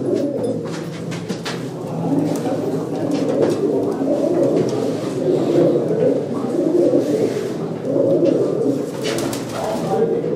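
Pet pigeons kept by a fancier coo continuously in a soft, layered murmur from several birds close by, steady for the whole stretch with a few faint clicks and a voice speaking now and then.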